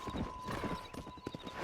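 A horse in the video game Red Dead Redemption gallops with quick, rhythmic clip-clop hoofbeats at moderate volume, a brief run of thudding steps.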